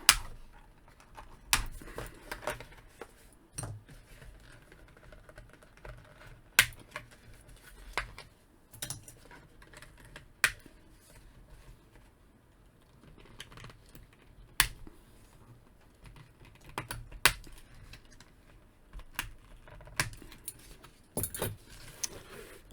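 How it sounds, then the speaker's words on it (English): Small plastic tabs being pried and snapped off Transformers action figure packaging, a scattered series of quiet clicks and rustles with irregular sharp snaps over a near-silent background. "it's just going to take a little bit of time just to remove all the plastic tabs."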